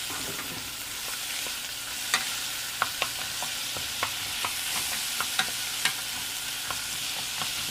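Onions sauteing in a pan for stuffed peppers, a steady bright sizzle throughout with a few sharp clinks of a utensil against the pan, no voices.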